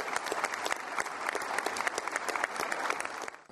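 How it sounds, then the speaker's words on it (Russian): Audience applause at a formal address to the nation in Kazakhstan, a dense, steady wash of clapping from a large crowd lasting a few seconds before fading at the end, with no talk over it. "Спасибо за аплодисменты и поддержку."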